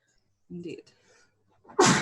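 A single sharp, loud sneeze bursts out at the end, breaking into a tabletop roleplay session, following a short stretch of quiet conversational speech.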